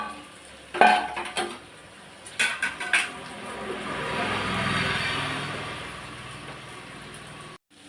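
Sliced carrots with ginger, garlic and green chilli sautéing in a pan, with soft continuous sizzle building mid-clip and a few sharp clinks of a utensil against the pan early on, no voices.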